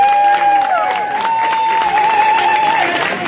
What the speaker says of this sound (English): Let's give Samuel Krogan III a round of applause.